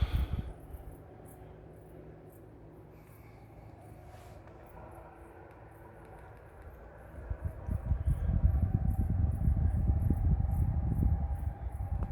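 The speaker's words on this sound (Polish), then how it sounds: "ten ciągnik, który słychać w tle" A low diesel tractor engine rumbles in the distance, growing louder and rougher toward the end, with faint birdsong chirping above.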